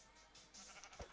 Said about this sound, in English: There's another sheep around here somewhere.